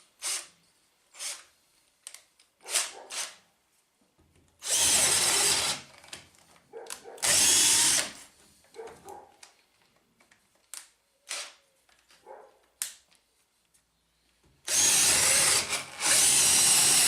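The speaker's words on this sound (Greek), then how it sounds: "Πάμε σε μεγαλύτερο τρυπάνι." Parkside PABS 20-Li D4 cordless drill boring with a larger bit: two loud sustained whirring bursts a few seconds apart, scattered short clicks and knocks between them, then a final long drilling run, with no talk.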